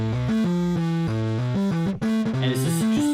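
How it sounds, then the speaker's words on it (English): A gritty, crunchy distorted bass guitar plays a choppy riff of stepping low notes, loud and dense, with no voices. "And it's this just super crunchy guitar."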